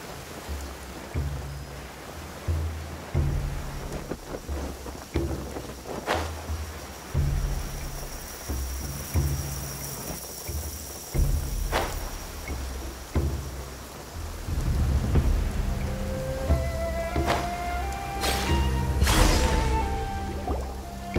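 Rain and thunder in Genshin Impact: steady rainfall with several sharp cracks and rumbles of thunder spread across the stretch, under a rhythmic game music backdrop that swells toward the end.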